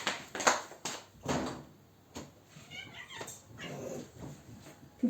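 Pet cats meow indoors, a few soft, scattered calls rising over faint household shuffling and knocks.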